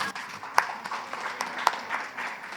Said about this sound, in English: Please join us in welcoming our panelists with a warm round of applause.